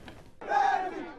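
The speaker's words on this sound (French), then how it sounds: "c'est une foule en liesse qui a accueilli le candidat du parti Univers" A jubilant crowd in the town of Ezeka cheers and shouts for the Univers party candidate at a Cameroonian presidential campaign rally, a sudden burst of massed voices after a brief lull.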